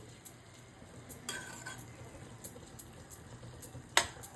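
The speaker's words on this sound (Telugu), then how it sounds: "ఇలా మధ్య మధ్యలో మూత తీసి కలుపుతూ ఉండాలి" A spoon stirs an amaranth stem curry in a pan, with quiet scraping strokes over a faint low sizzle and a sharp clink of metal near the end.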